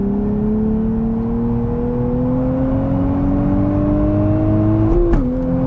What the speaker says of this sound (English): just gradually squeeze more power and grab 4th gear once you're straight